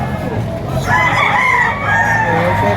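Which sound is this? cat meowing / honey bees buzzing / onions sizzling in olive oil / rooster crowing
rooster crowing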